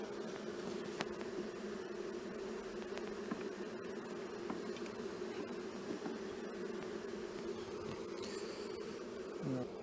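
Bees from a nuc being rehoused into a hive, making a steady, dense buzzing drone that holds evenly throughout, fairly close, with no voices.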